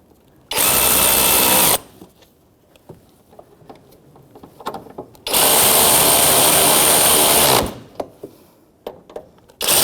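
A power tool fitted with an E14 inverted Torx socket snugs the strut mount nuts on a Jeep Renegade, running in two loud, sustained whirring bursts, with quieter clicks and handling noises between them.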